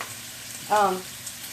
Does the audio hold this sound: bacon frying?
yes